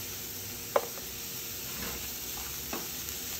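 Julienne carrots sizzling in a hot pan, a steady close frying hiss with a sharp utensil clack near the start and a couple of softer stirring scrapes.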